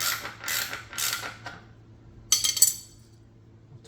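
A wrench tightens bolts on an electric bike rack during installation, giving a few close, creaking ratchet-like strokes followed by short metallic clicks and clinks, with quiet pauses between.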